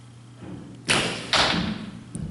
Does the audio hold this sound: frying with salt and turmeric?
no